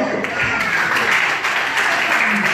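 A live concert crowd applauds steadily for a couple of seconds, a dense wash of clapping at moderate loudness.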